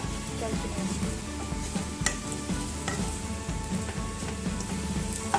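Ginger frying in a kadai while being stirred for a paneer dish: a steady close sizzle runs throughout, with repeated scraping and tapping of the spoon against the pan in an uneven rhythm.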